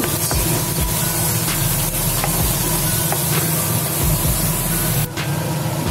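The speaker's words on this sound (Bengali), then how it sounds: "দু মিনিটের মতন আমি সব ভালো মতো ভেজে নিচ্ছি" Spices sizzling and frying steadily in a pan for pomfret curry, a continuous dense hiss with faint scraping stirs now and then, close and fairly loud, cut short near the end.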